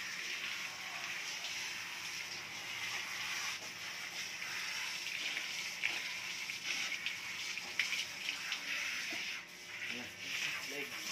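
Steady broadband rush of running water from a tap or sprayer while bathing a pet, continuing throughout with faint voices in the background.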